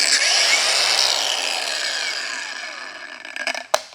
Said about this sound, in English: The cutoff wheel seems to work good. I'm halfway through it now,